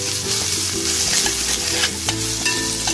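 Ginger being stirred as it fries in a pan, a steady close sizzle with scraping stir strokes, no voices.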